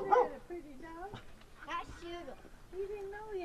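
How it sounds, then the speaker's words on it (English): Old hound dogs, one part Australian Shepherd, bark and yip repeatedly with whimpering howls in between, near and lively, while people talk over them. "There's the old hound dogs."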